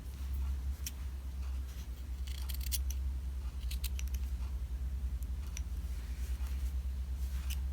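Scissors snip along the edges of a felt mitten ornament, a run of close, crisp cuts over a steady low hum, with no talking.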